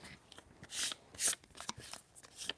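A sheet of 2000-grit sandpaper is handled in a workshop, giving a series of close, crisp rustling and crinkling bursts at uneven intervals, quiet between them.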